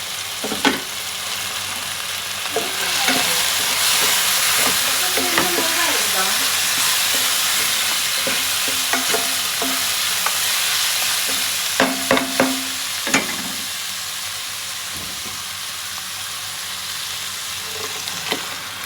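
Ground tomato paste frying in a mutton biryani pot, a steady close sizzle lasting throughout, with occasional stirring scrapes and clinks against the pot.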